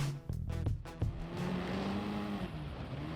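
A Mitsubishi Evo rally car slides across gravel in the Gran Turismo Sport video game, its engine droning steadily with a few quick rev changes and a loose, continuous rush of tires.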